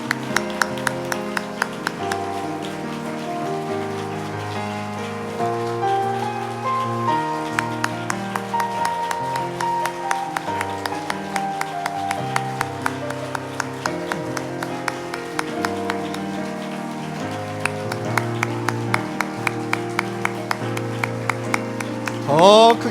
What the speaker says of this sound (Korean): 끝까지 박수로 축복해 주십시오.